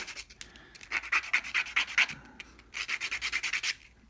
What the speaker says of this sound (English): And I'm going to sand it down into a circle.